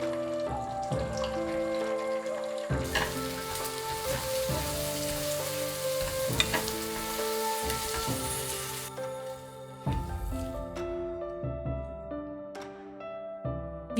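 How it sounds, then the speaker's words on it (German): An egg mixture fries in a hot oiled pan for a Chinese-style dish, with a steady, rain-like sizzle running throughout under prominent background music and no speech. "Die Eiermischung in die Pfanne gießen und kurz braten."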